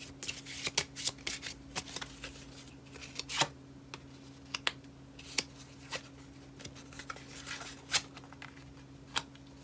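Tarot cards shuffled by hand, a run of crisp riffling flicks and soft slides with a few louder snaps, close and fairly quiet, with a steady low hum beneath and no talking.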